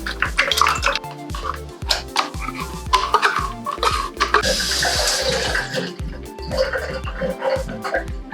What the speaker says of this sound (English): I'm adding cold water and you can also add some ice cubes if you want.